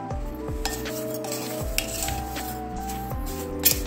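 Amla being stirred with sugar and lemon juice in a bowl, giving a continuous scraping, rubbing stir with a few sharper clinks, close and alone with no talk.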